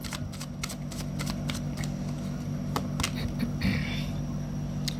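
Tarot cards are shuffled close up in a series of quick papery flicks, fading after the first seconds over a steady low background hum, with a faint rustle near the end.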